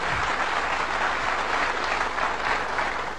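An audience on a comedy stage show claps steadily to welcome a guest, a broad even wash of applause that holds at a constant level throughout without speech.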